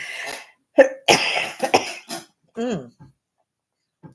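A harsh coughing fit of several rough, raspy bursts in quick succession, close by, with a wheezy, strained breath near the end.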